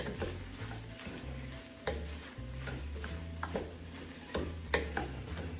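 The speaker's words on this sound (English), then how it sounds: "you want to mix the rice in, and you want to get it like toasted" Rice being stirred and toasted in a pan for arroz con pollo, with quiet scraping strokes and light sizzling, punctuated by soft utensil clinks against the pan, and no talking.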